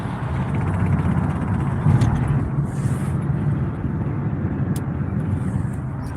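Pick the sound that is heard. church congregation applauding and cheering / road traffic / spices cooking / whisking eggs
road traffic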